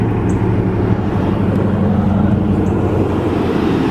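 The 5.7 liter V8 engine of a 1996 Chevy Tahoe, freshly fitted with new spark plugs, plug wires, cap and rotor, runs with a loud, steady low rumble close by, with no voices.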